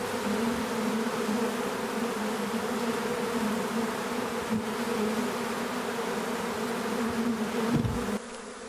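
A large swarm of bees hums continuously around an improvised hive outdoors, a close, dense drone that holds steady, then thins a little at the end.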